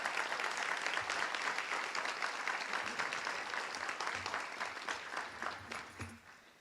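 Applause from the audience at a town board meeting honoring local honorees, steady clapping filling the room for several seconds before tapering off near the end.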